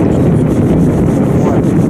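Strong wind buffets the microphone in a steady, roaring rush throughout, loud and continuous with no clear pauses, on a cold day while float fishing from an Alaska 46 boat.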